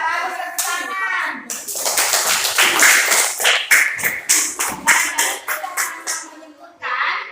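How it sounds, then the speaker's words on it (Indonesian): Schoolchildren in a classroom clap together in a burst of rapid, uneven hand claps that thins into scattered individual claps, with a voice heard at the start. "Iya, bagus, tepuk tangan."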